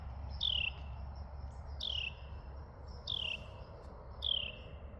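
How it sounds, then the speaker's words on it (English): Four short descending bird chirps repeat at steady intervals over a low, constant background rumble, fairly clear and moderately loud. "Hear that bird?"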